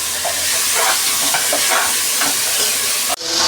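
Onion, tomato and ginger garlic paste sauté in a pan, a loud steady sizzle with scraping stirs, and a brief dip near the end before the frying hiss returns.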